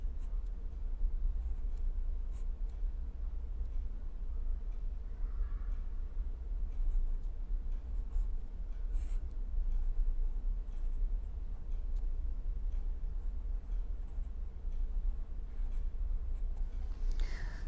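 Chalk or marker writing on a board during a lecture, steady faint scratching strokes with occasional taps over low room hum, no talking.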